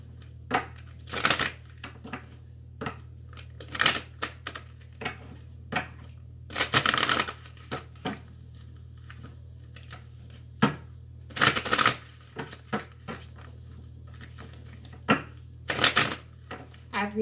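Tarot cards being shuffled by hand, in bursts of crisp riffling and slapping separated by short pauses, close and fairly quiet over a low background hum.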